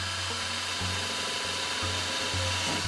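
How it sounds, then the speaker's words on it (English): A power drill runs steadily, pushing its bit through the boot cowl strip of a RANS S-21 aircraft during cage prep. The motor whine is close and continuous, with brief dips in pitch as the bit bites. "if I stick the drill bit through there and stick it through the boot cowl strip"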